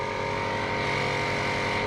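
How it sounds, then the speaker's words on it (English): A car engine idles steadily after brake line and exhaust repairs, with a constant low hum and drone, unchanging in pitch, close by. "The car seems to be running-ish."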